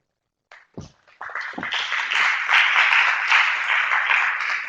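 An audience at a medical conference session on CAR-T cell therapy applauds a doctor taking the floor. A few scattered claps come first, then a full, sustained round of clapping swells and continues.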